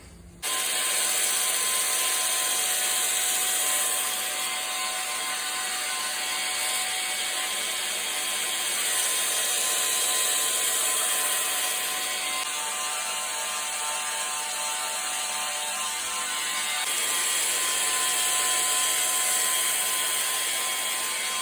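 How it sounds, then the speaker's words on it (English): Belt grinder grinding the bevel of a cowboy knife in a grinding jig: a continuous loud abrasive whir and rasp that swells and eases slightly over the passes, with no talking. "So let's start grinding."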